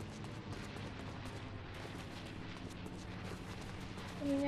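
Gunfire in the Fortnite video game: rapid bursts of shots over a dense, continuous rumble of battle noise, loud and sustained throughout, with no talk.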